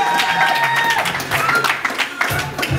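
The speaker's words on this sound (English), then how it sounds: "Give them one more round of applause." A crowd at a live music show at a San Diego venue claps and cheers briefly, scattered applause building in bursts, with a voice talking over it.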